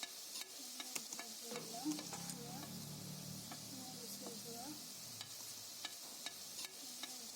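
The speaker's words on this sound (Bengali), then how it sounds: "এবারে আমি কাটা বেছে রাখা মাছগুলোকে মশলার মধ্যে দিয়ে দিলাম।" Pieces of rui fish cook in spice paste in a pan, giving a soft, quiet sizzle and hiss with intermittent light scrapes and taps of stirring.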